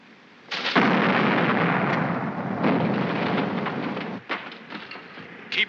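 A ship's cannons fire a broadside at the waterline in a pirate battle scene, heavy booming blasts with long rumbling roars, followed by smaller cracks and bursts toward the end.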